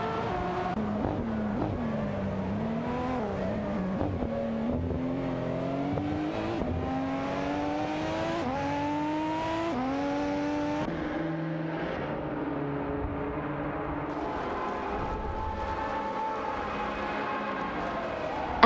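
Race cars speeding down a street in a racing video game, engines whining and shifting pitch continuously as they accelerate, steady and loud throughout.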